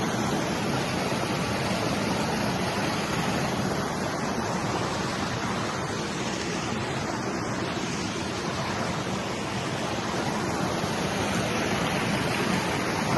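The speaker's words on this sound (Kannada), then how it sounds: "ಜಲಪಾತ ತುಂಬ ದೊಡ್ಡದೇ, ಆದರೆ ನೀರು ಕಮ್ಮಿ ಬರ್ತೈತೆ ಅಷ್ಟೇ." A large waterfall running with low water flow on the Kumara Parvatha trek, producing a constant dense rushing roar that stays steady and loud throughout, with no voices.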